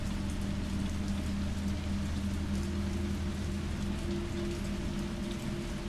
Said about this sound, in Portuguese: Ih, rapaz, tá chovendo, parece lá fora.